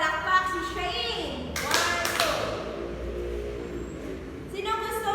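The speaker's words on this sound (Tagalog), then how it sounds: "Bigyan ng dalawang palakpak si Shane." A classroom of children gives two quick, sharp claps in unison for a classmate during a lesson, with kids' voices talking around the claps.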